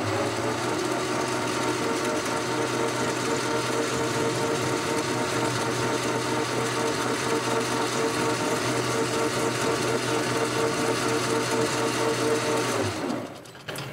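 A metal lathe faces off the end of an aluminium bar before turning between centres, giving a steady, continuous mechanical whine and hum at close range that runs unbroken before cutting out near the end.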